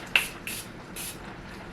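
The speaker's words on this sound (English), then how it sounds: "spraying it like that" Several quick, hissing spritzes of makeup setting spray misting onto a brush, close by, spaced about half a second apart.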